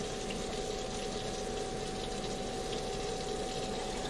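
Water runs steadily from a tap while a Shih Tzu puppy is rinsed in a bath, a constant loud gushing flow that fills the whole clip.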